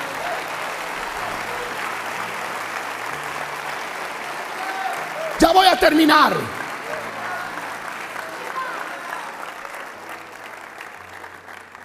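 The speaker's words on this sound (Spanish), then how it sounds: "Dale el aplauso al que vive." Applause from a church congregation during a sermon, a fairly faint, steady wash of clapping that swells briefly mid-way under a short spoken line from the preacher, then fades.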